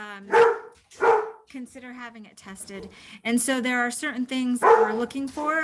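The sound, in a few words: dog barking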